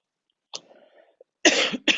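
A woman who is sick coughs from a constant tickle: a faint throat sound, then a short pause and two sharp, close coughs in quick succession.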